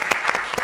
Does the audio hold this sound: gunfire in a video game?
no